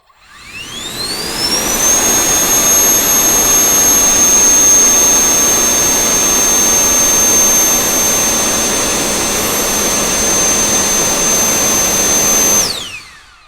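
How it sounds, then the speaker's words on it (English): A cordless turbo car dryer blower, a 134 mph high-speed Type-C charging unit, spins up in turbo mode to a loud, steady rushing roar with a piercing whine, holds there for about eleven seconds, then winds down and stops. "you have turbo mode, which you're going to press and hold this start button for 2 seconds"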